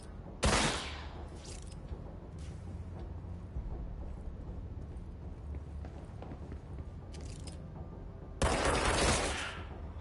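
Rapid gunfire from shooting enemies in the video game Control, a dense sustained barrage over ten seconds with louder bursts near the start and end, no talking.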